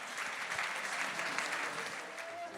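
Church congregation applauding for Jesus during a service, a dense, steady wave of clapping from a crowd, loud and continuous throughout.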